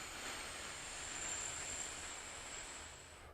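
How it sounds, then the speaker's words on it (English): A slow, steady exhale through pursed lips during standing qi gong breathing, a soft continuous hiss that holds evenly for about three seconds and fades slightly at the end. "you might hear a little hissing sound because it's a smaller stream"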